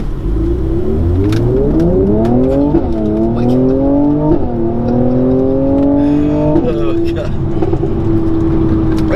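A 2019 Mercedes-AMG C43 Coupe accelerates hard from a rolling start through several gears, engine pitch rising and dropping with each shift, loud and close, settling into a steady cruising hum.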